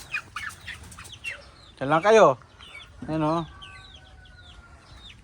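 Backyard chickens cluck and squawk in two loud nearby bursts, with chirping chicks and a brief flutter of wings, while someone talks to the birds.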